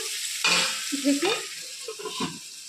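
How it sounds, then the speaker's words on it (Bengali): Vegetables for Bengali sukto frying and being stirred in a pan, a steady sizzle with scraping stir strokes that come in a few louder bursts, close up with no talking. "ঢেকে ঢেকে ভাজবো"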